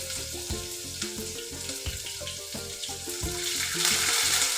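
Onions frying in a pan over mustard seeds and cumin, a close continuous sizzle with rhythmic spatula scrapes and taps, rising a little louder toward the end.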